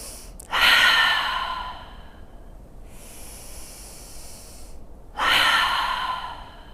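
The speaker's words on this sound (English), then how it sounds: "Exhale through the mouth and drop the shoulders down." Two long breaths exhaled through the mouth during a seated yoga flow, each a loud, close, airy rush of breath that fades out, with a softer hiss between them.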